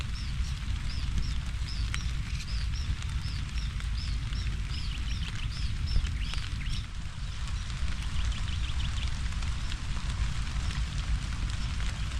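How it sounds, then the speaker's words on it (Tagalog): Steady rain hisses and patters evenly throughout, with faint bird chirps drifting in the background. "Ulan."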